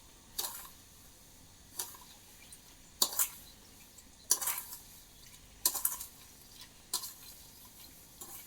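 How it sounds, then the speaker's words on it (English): A spoon stirs 400 grams of sugar into 400 millilitres of mixed berry juice for cordial, making about six sharp scrapes and clinks against the pot at irregular intervals over a quiet background. "Mix that in so the sugar melts."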